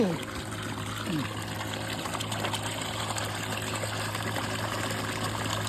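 A diluted farm spray solution trickles and pours steadily through a filter, a soft continuous watery flow with a low hum beneath it and no talking.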